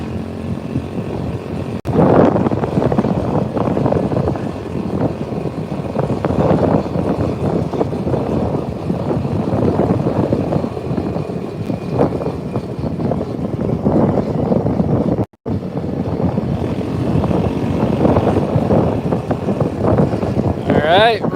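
A Polaris RZR 200 off-road vehicle rides on a windy mountain trail, its engine droning steadily with wind buffeting the microphone, while a voice talks over it.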